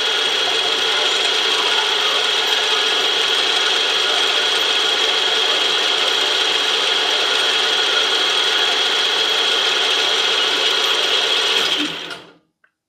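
A milling machine runs steadily with an edge finder fitted, a loud constant mechanical whine and hum held for about twelve seconds before it winds down and stops.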